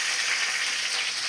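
Spices tempering in hot oil for a brinjal curry, a steady bright hiss of sizzling, close and even throughout with no talk.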